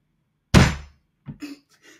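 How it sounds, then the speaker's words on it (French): A knife chops through a chocolate bar for cookies and thuds hard on a table, one heavy close crack followed by a few lighter knocks. "Alors attendez, Fabioche, pourquoi pas acheter des pépites directement au lieu de couper une tablette?"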